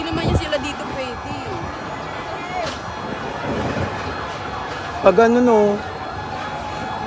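Fire truck sirens rise and fall in the distance beneath nearby conversation at a fire in Tondo, Manila, with a brief louder siren sweep near the end.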